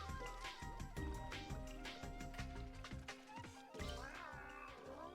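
A cat character in the LittleBigPlanet video game meows in a few drawn-out, wavering calls over bright, busy game music, fairly close and clear.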